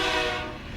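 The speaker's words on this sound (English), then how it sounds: "the blaring sound of the horn could be heard from directly behind them" A train horn blares loud and close inside a railroad tunnel, a sustained, harsh chord that slowly fades over under a second, with no talk.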